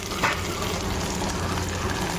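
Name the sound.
mutton poured into sizzling fried onions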